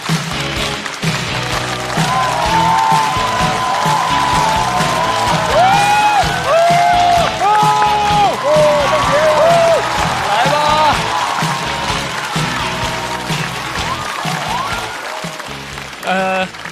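A studio audience at a stand-up comedy show applauds and cheers loudly to welcome a comedian to the stage, with whoops and music playing beneath sustained clapping.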